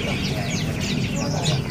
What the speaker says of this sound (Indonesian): Di depan kita ini ada burung kekep babi ya.